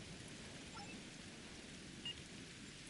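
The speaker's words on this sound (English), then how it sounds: "Wow, rain on Ryza." Faint, steady rain falls as a soft, even hiss on an alien planet, continuous and distant with no other sounds standing out.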